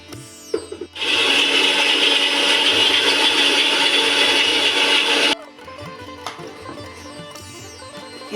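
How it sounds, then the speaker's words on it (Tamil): A mixer grinder blitzes about ten cashew nuts in a small jar, making a loud, steady whirring roar for roughly four seconds that stops abruptly, with quieter handling clatter before and after. "இப்போ ஒரு மிக்சி ஜாரில் பத்து முந்திரி பருப்பை போட்டுக்கோங்க இதை மூடி போட்டு குறை குறைன்னு அரைச்சி எடுத்துக்கணும்"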